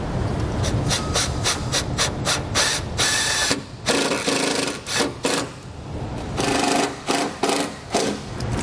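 A power tool drives self-tapping screws to mount a bracket for a trailer brake controller, giving loud rapid ratcheting bursts in several runs with brief pauses between them, close-up and without talk.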